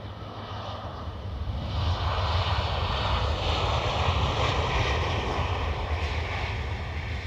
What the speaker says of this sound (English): that was that overhead we heard there just now, the prop going over me. That's the Air Corps